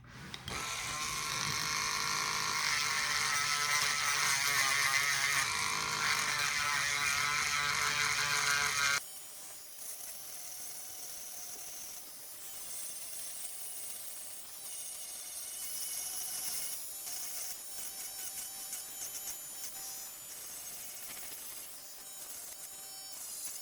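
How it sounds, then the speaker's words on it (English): Dremel rotary tool carving wood, a loud high-pitched buzzing whine that runs steadily for several seconds, then drops to a quieter, thinner grinding buzz that continues unevenly to the end. "it's the easiest to just go at it with a Dremel"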